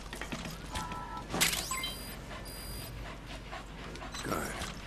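A dog in the Metal Gear Solid 5: The Phantom Pain game pants in steady quick breaths, with a brief whimper and game interface tones layered over it.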